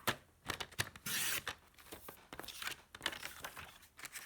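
Paper card being cut for floral card making, heard as a run of close, crisp rustling and tearing-like strokes with one longer sliding swipe, alone with no talk.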